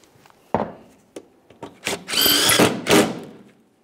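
A power tool drives an 8mm headed bolt on a 1998-2011 Ford Ranger 2.3L four-cylinder, first with a few knocks and taps, then two short, loud whirring bursts close by, with no talking.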